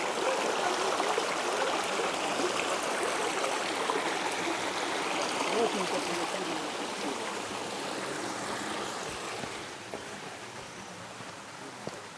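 A river stream flows steadily at Kbal Spean, a broad, continuous rushing and trickling of water over rocks, loud and close throughout, with no voices.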